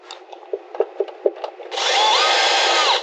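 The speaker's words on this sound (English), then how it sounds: "drill the hole." A power drill drives a self-drilling screw into an RV window frame on an Alliance Avenue, starting after a few light taps and rattles and then whirring loud and steady for over a second.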